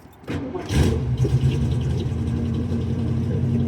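A 351 Cleveland V8 in a Mustang cranks briefly, catches and settles into a loud, rumbling, lumpy idle, close by with no talking.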